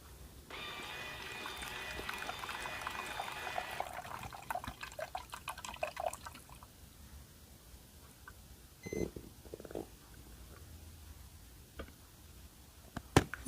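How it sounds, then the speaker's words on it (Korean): A Brabi formula maker dispenses 80 ml of milk, a soft trickling pour for a few seconds followed by faint drips and small mechanical clicks, fairly quiet and close, with no talking. "80ml를 추출합니다."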